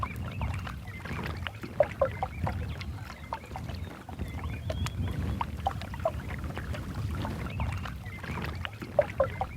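A dugout canoe, or pirogue, moves on a lake with soft water sounds and paddle splashes. Waterfowl call now and then nearby and far off, and no one speaks over the steady, moderately quiet wash.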